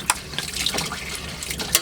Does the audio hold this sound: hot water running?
yes